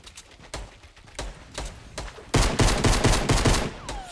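Pistol fire in the Fortnite video game: scattered single shots in the opening seconds, then a denser, louder run of rapid cracks, close and unaccompanied by talk.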